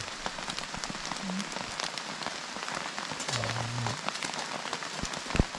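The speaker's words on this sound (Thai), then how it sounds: "ฝนมันตกเราต้องรีบแล้วอ่ะ" Rain pattering steadily on surfaces at a mountaintop campsite, a dense soft hiss of drops with a few brief low hums and a sharp knock near the end, and no one speaking.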